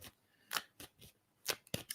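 Playing cards being shuffled by hand, heard as five or six quick, crisp riffling bursts with short pauses between them, close but fairly quiet, and no voices.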